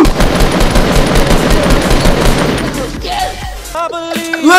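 Rapid automatic gunfire from a Fortnite squads match fires in dense, continuous bursts for about three seconds, then gives way to scattered game effects and tonal chimes.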